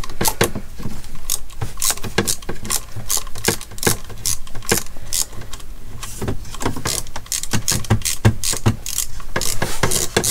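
Hand ratchet clicking quickly and steadily while undoing bolts on a Land Rover Defender TD4, a continuous run of sharp close metallic pawl clicks with brief pauses.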